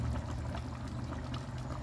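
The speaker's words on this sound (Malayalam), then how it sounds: "ഇനി തിള നിന്ന് കഴിയുമ്പോൾ ഇച്ചിരി പച്ച വെളിച്ചെണ്ണ ഒഴിച്ച് കൊടുക്കണം." Raw coconut oil is poured into a just-boiled fish head curry: a soft, steady liquid trickle at low volume, continuous for a couple of seconds with no voices.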